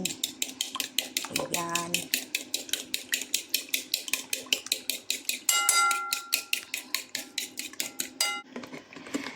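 A utensil clinks rapidly against a bowl while French toast mixture with sugar is whisked, a brisk steady rhythm of close metallic taps with a brief voice speaking over it.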